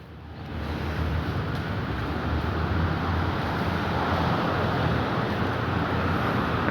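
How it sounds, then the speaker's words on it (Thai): Diesel railcar arriving at Sam Sen station in Thailand, a steady broadband rumble with low engine drone building as it draws near, loud and continuous throughout without talk. "มาแล้วครับ ดีเซลลางครับ"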